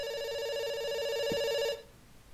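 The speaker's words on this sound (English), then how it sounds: "It's ringing." A telephone rings in a video game set during a whirlwind heist, giving one steady electronic ring with a bright, buzzy tone that cuts off sharply near the end, leaving a quiet room hum.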